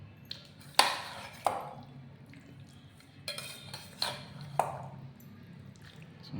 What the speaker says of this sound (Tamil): கொஞ்சம் கலக்கி